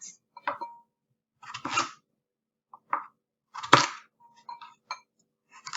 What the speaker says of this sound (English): Next, I'm going to peel and chop the carrot.